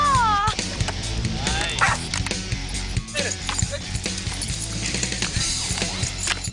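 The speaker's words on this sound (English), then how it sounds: "We're gonna be throwing around some discs with some dogs." Excited dogs bark and yip while chasing thrown discs outdoors, a busy cluster of close barks and sharp yelps mixed with people talking and cheering around them.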